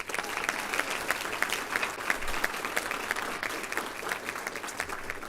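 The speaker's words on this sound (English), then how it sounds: "How about a round of applause for that?" An audience at a community ceremony honoring military service gives a round of applause, a steady fairly distant patter of many hands clapping that holds throughout.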